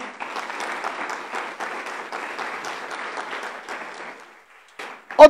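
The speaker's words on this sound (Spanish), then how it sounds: "Yo le daría un fuerte aplauso al Señor." A church congregation claps for the Lord during a Spanish-language sermon, with steady applause from many hands that fades out near the end, followed by a sharp close sound.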